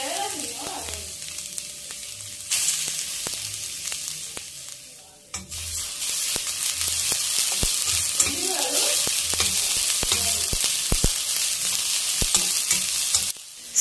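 Chicatana ants roast in a very hot frying pan with a loud, steady sizzle and crackle, broken by frequent sharp clicks and scrapes as they are stirred constantly.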